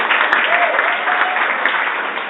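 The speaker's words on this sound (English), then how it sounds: "Give them another round of applause" An audience at a performance event applauding after scores are read, a dense, steady burst of clapping that stays loud and even throughout.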